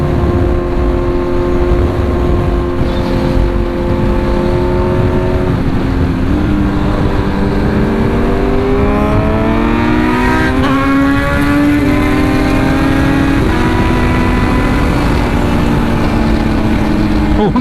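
A Kawasaki Z900 with a full-system LV exhaust and a quickshifter accelerates hard. Its loud, close engine note climbs in pitch through repeated quick gear changes, each shift briefly dropping the tone before it rises again.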